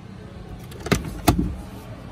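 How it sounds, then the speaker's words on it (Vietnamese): A sunroof on a 2004 Lexus 330 with a Japanese-import 3.3-litre engine is operated inside the car, giving two short mechanical clunks about a third of a second apart over a quiet background hum. "Cửa sổ trời đây."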